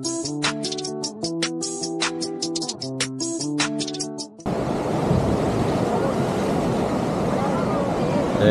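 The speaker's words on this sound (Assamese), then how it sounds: "এইখনেই হৈছে সাগৰ" After a few seconds of music, a steady roar of sea waves and wind takes over, loud and continuous, at the coast near Mahabalipuram, Tamil Nadu.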